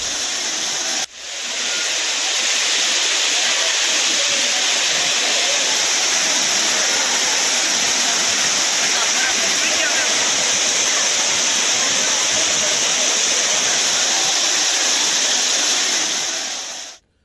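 Rushing water pours down the Old Courtallam waterfall in a loud, steady broadband roar that stays constant and close for the whole stretch, starting and ending abruptly.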